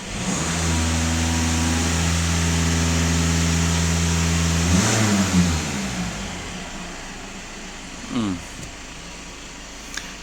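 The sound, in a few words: car engine revving to higher rpm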